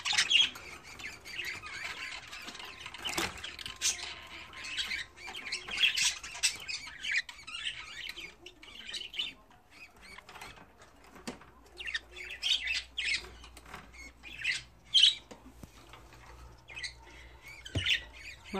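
A pet budgerigar at home keeps up bursts of harsh squawks and bright chirps, close and fairly quiet, with small rustles between calls.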